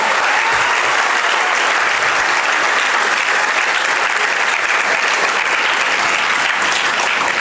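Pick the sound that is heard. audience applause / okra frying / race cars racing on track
audience applause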